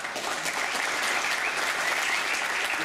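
Steady applause from an audience at a Toys for Tots event honoring the Marines, a dense even clapping that holds at full strength without break.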